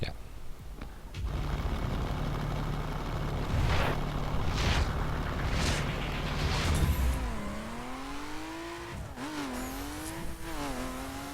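A BMW Z4 sDrive35is in the racing game The Crew, its engine roaring as nitro kicks in, loud and sustained for several seconds, then settling into a rising, shifting engine tone; someone talks over parts of it.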